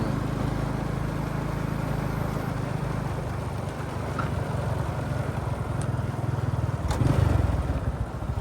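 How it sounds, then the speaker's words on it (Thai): A motorcycle ridden along a rural road past rice fields runs with a steady, rough engine drone that swells briefly near the end as the throttle is opened, loud and close, with no talking. "เร่งเครื่องซะหน่อย"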